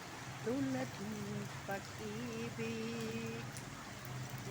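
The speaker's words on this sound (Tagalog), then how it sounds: "Wala nang hinto sa ulan." Steady rain falls in a continuous soft hiss, with a person's voice talking over it throughout.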